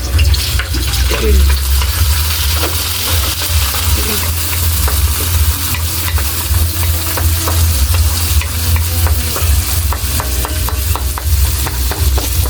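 Onion and tomato sizzle steadily in a hot pan while being stir-fried for pork picadillo, a dense continuous frying hiss with scattered stirring clicks and scrapes, close and loud, with no talking.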